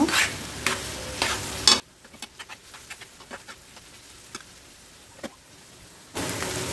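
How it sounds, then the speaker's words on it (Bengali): Onions frying in oil for prawn dopiaza, bursts of loud sizzling and stirring at the start and end, with quieter spells of soft crackle and scattered clicks between. "তো পেঁয়াজটাকে আমি এখন ভালো করে ভেজে নেব"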